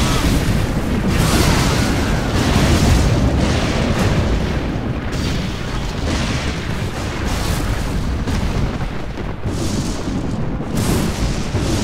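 Nuclear missile detonation in the strategy game Command & Conquer Generals Zero Hour, a sustained, loud roaring blast of rumble and crackle that stays dense and steady for the whole stretch with no voices.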